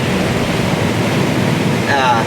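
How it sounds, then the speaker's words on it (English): Strong, steady wind roaring and buffeting the microphone, with a loud continuous rush throughout and a brief higher whistling near the end. "It's very, very windy here, as you can see."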